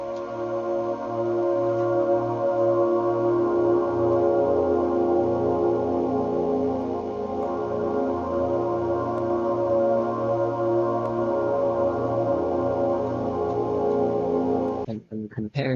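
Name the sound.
synth pad with repeated sample chop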